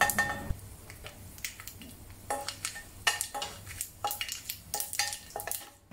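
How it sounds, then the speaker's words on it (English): Curry leaves and dried chilies fry in hot oil for a cabbage thoran, with a low sizzle beneath repeated metal clinks and scrapes of a spoon stirring the pan, close and uneven. "Add the curry leaves, then followed by the dried chilies. Cook for 15 to 30 seconds to release the flavor."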